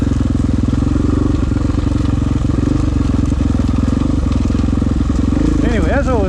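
KTM 500 dirt bike with an aftermarket ECU starting up, its single-cylinder engine settling into a loud, close, rapid thumping idle that holds steady throughout.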